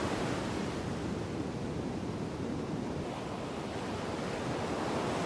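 Sea waves break and surge steadily at the Mundaka bar, where a calm estuary meets the Cantabrian Sea, giving a continuous broad roar of surf with light wind and no voices.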